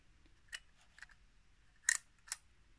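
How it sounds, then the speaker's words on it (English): A Wolf Luxa Six camera's shutter release fires in several crisp, light mechanical clicks, close and alone in a quiet room, with two sharper snaps near the end. "This button releases the shutter"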